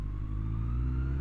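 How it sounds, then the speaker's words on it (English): A Suzuki Bandit motorcycle fitted with an aftermarket exhaust idles with a deep, steady engine rumble, loud and close, with no speech over it. "I forgot to mention about the sound of this bike. I do have an aftermarket exhaust on it, but it just sounds incredible."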